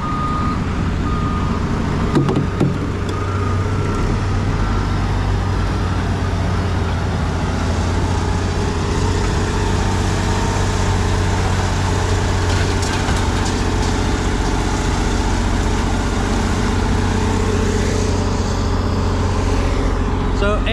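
Heavy diesel machinery drones steadily at a construction-and-demolition landfill, a bulldozer working with a low constant engine hum, intermittent reversing beeps and clanks, and faint voices under the rumble throughout.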